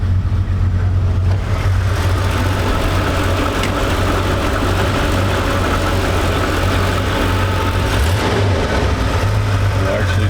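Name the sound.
1969 Chevrolet G10 Sportvan 307 V8 engine running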